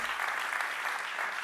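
An audience applauding a guest jazz musician on a television show, a short, even burst of clapping with no voices over it.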